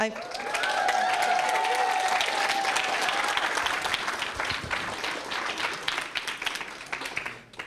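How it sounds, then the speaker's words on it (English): A keynote audience at an open-science plenary breaks into loud, sustained applause that fills the room for several seconds, with a voice briefly audible early on before the clapping tapers at the end. "Keep all the applause for the end"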